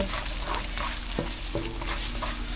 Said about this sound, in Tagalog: Gigisa ko muna yung sibuyas, bawang at luya